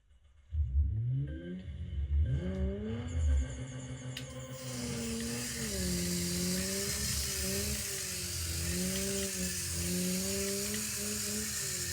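Racing car engine in the video game DR!FT in race mode, driven with a PlayStation 4 controller: a steady buzzing engine note that wavers up and down in pitch as revs shift, rising at the start, then holding fairly constant.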